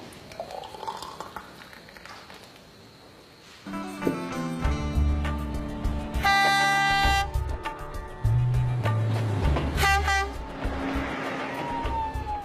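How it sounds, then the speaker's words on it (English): A train on the Sri Lanka main line rumbles along and sounds its horn several times, with long blaring tones over heavy engine and wheel noise that grow louder midway. "The train heads into the mountains on the main line twice a day."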